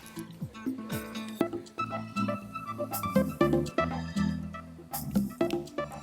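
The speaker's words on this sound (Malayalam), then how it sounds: "ഇനി ഇതിനകത്തോട്ട് ഞാൻ ഇച്ചിരി വെജിറ്റബിൾ ഓയിൽ ഒഴിക്കാം" Vegetable oil pours into a non-stick pan while making chicken tikka pulao, a close, quiet trickle and glug with soft liquid splashes, and a voice talks intermittently.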